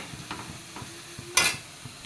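Onion and ginger sautéing in a pan, a faint sizzle with soft stirring taps and one louder, brief scrape or clatter near the end.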